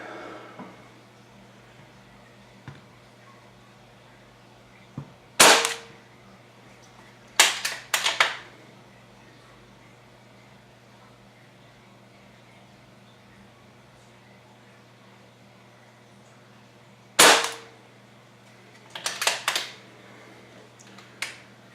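An Umarex Gauntlet .25 air rifle, pumped to 3,000 psi and loaded with H&N Baracuda Hunter pellets, fires sharp, sudden cracks at a 30-yard range, spaced several seconds apart, with some shots followed by quick mechanical clacks of cocking over a low hum.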